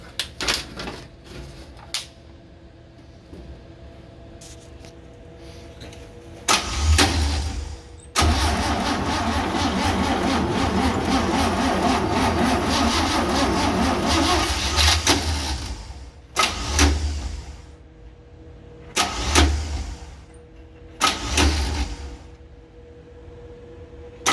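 A 1966 Chevy van engine cranks in several short bursts, catches and runs loudly at a rough idle for several seconds, then cuts out and is cranked again in repeated brief attempts, with no talking.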